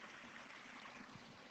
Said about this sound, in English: you the nice sound of water.